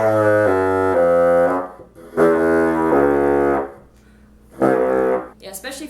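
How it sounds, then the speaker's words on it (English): A bassoon plays sustained low notes in three separate phrases with short pauses between them, rich and warm in tone, heard close up and on its own. "especially for the bassoon, such a low woodwind instrument, you're going to want to use a lot of warm air, especially for the low notes"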